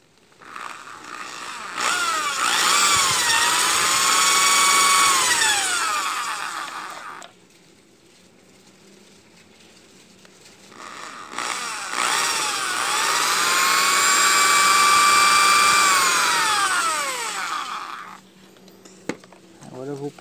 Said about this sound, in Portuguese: Vou furar ela aqui. Aqui mesmo no meio da estrela. Vou furar as folhazinhas.